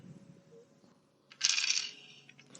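Dice dropped onto a hard surface during a tabletop game, a brief rattling clatter as they tumble and settle, faint and close, over quiet room tone.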